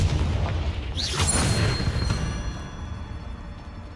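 A Confringo blasting spell explodes in Hogwarts Legacy inside a cave, a loud booming burst with a rushing, crackling tail that stays dense and fades slowly over a few seconds, with no voices.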